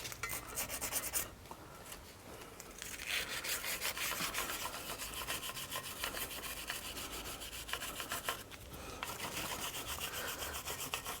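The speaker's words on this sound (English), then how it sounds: "But make sure you clean up the threads really good" A brush scrubs the threads of a Bravo 3 propeller shaft in quick, repeated rasping strokes, fairly close and steady with short pauses between bursts and no talking.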